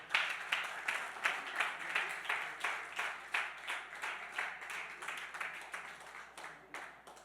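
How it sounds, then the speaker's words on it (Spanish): Standing church congregation claps in steady unison, a regular rhythm of about four claps per second that carries on for several seconds and fades slightly toward the end, moderately loud in a reverberant room. "Pónganse de pie y démosle un fuerte aplauso al Señor"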